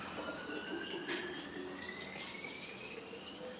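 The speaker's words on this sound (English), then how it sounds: "you just want to pour it inside your kombucha bottles." Hot water poured from a kettle into empty glass kombucha bottles, a quiet, steady trickling hiss with a faint rising tone as the bottles fill.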